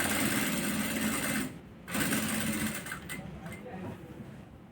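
A sewing machine stitches the edge of a coat collar in steady whirring bursts. It pauses briefly near the start, then runs again and gradually slows and fades.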